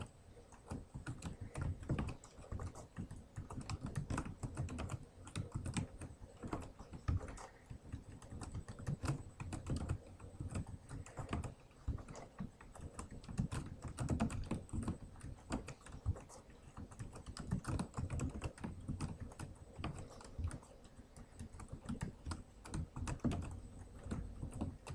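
Computer keyboard typing while using hotkeys, a dense, continuous stream of quiet key clicks and taps at an irregular but rapid pace, steady throughout without speech.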